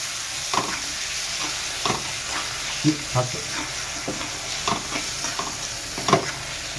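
Soft, ripe red tomatoes frying in a pan with salt, steady sizzle broken by repeated spoon scrapes and stirring knocks at irregular intervals, close and moderately loud with no voices.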